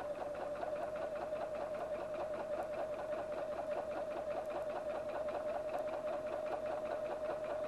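A Husqvarna Viking Platinum 770 sewing machine running steadily, a fast even mechanical hum with rapid needle ticking, close and continuous throughout.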